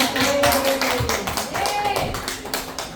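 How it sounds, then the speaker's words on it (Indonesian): Applause from a small group of teachers and parents at a school session, a few hands clapping in uneven rhythmic bursts, fairly close, with voices talking faintly underneath. "Boleh kita kasih tepuk tangan sekali lagi ya"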